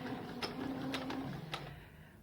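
A sewing machine runs a short stitching burst through two layers of fabric held together, a steady low mechanical whir with a few sharp clicks, close and moderate in level, with no talking.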